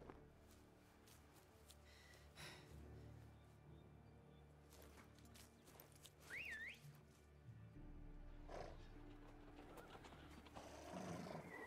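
Horses in a video game whinny and snort amid clopping hooves and rumbling movement, with a brief whistle-like cry midway.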